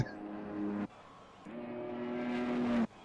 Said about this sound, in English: full Ferrari engine purring